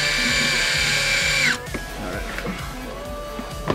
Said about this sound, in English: Someone needs to take the sound of this drill and remix it.